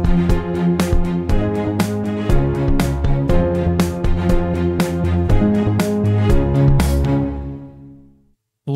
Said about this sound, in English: And now we basically use the same reverb effect on all these channels